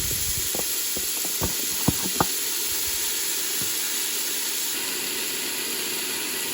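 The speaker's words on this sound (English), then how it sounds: "we'll just let these saute for a good 5 minutes" Mushrooms sauté in olive oil inside a Ninja Foodi grill, giving a steady, even hiss with a few faint pops and ticks early on.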